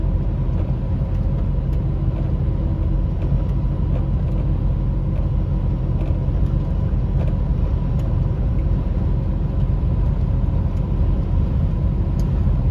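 A truck cruises along a long, flat, straight road, its engine and tyres making a steady low rumble and drone that stays constant and close from start to end.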